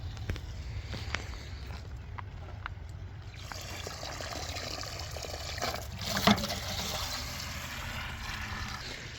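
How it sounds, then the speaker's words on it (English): Quiet outdoor trickle of well water running into a pond, with a low continuous rumble, a few scattered clicks and a brief louder splash partway through. "I'm putting some well water in the pond"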